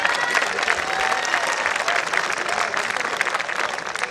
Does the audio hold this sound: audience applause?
yes